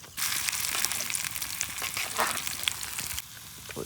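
Chicken pakora pieces with onion frying in hot oil, a close, busy crackling sizzle starting abruptly and holding steady, with a brief dip near the end.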